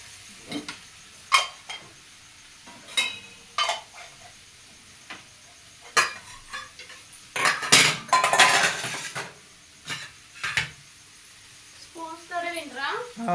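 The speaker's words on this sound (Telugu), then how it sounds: "గిన్నెలు దిద్దాం ఈలోపు" Pots, dishes and spoons being handled and cleaned in a home kitchen: scattered metallic clanks and clinks, some sharp and close, with a louder clattering run in the middle and a voice speaking near the end.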